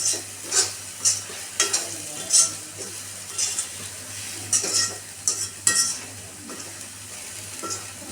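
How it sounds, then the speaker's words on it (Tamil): Curry paste for bitter gourd curry frying in a pan, stirred with a utensil that gives repeated scraping strokes and light clinks over a soft, steady sizzle. "கருகாமல் பரட்டிக்கணும்."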